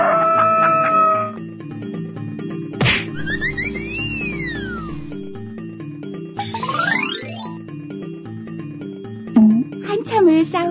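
A rooster crows and clucks as a sound effect in a children's story, heard over background music along with a sharp whack and some whooshing effects.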